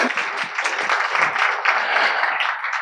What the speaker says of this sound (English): Can I please have a round of applause for our panel here tonight?